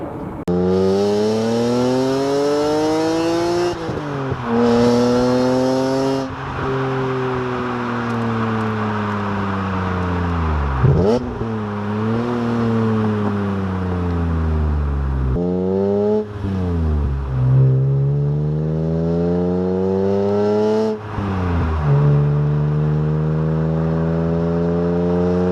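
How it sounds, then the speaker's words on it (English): An E46 M3's loud aftermarket exhaust revs repeatedly, rising and falling in pitch with short pauses between bursts, close and powerful with a raspy tone. "I can put a bunch of sound clips here for you guys to hear what the exhaust sounds like"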